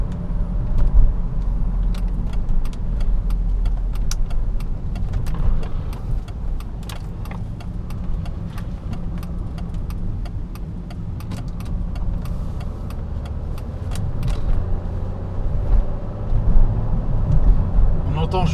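Mercedes C320 CDI six-cylinder diesel with a 7G-Tronic automatic, 2005 estate, heard from inside the cabin as a low, steady engine drone under acceleration, faint and muffled beneath road rumble, with scattered clicks and no talking.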